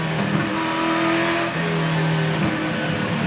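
A race car at Winton Motor Raceway sweeps through a long corner in a 1999 Shell Championship race, its engine loud and droning steadily with a brief pitch drop midway.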